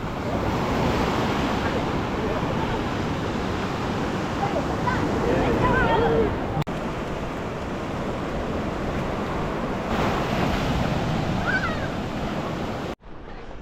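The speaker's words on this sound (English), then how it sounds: "We're walking down to the beach." Ocean surf washing onto a beach on the Ionian coast of Greece, a steady loud roar of breaking waves mixed with wind buffeting the microphone throughout, with no clear speech.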